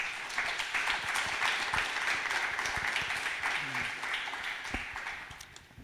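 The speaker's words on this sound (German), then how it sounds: "Begrüßt von den Grünen auf der Bühne mit einem rasanten Applaus noch einmal für euch Max Lux" Lively applause from the audience at a poetry slam with Bochum parliamentary candidates, welcoming a performer to the stage; dense, continuous clapping fills the room and slowly fades toward the end, with faint voices underneath.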